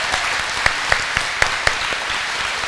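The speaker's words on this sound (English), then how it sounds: "So let's clap for everybody" A church congregation at Gracepoint Adventist Church claps together in a dense, steady round of applause, a few sharper individual claps popping out above the continuous patter, close and fairly loud.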